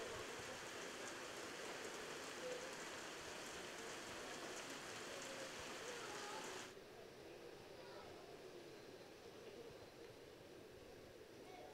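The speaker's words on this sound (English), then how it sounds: "I can even hear the rain hitting this grandstand and viewing area here" Steady rain drums on the roof of a grandstand and viewing area at a go-kart track hosting a supermoto race, a dense broadband hiss that drops slightly in level partway through.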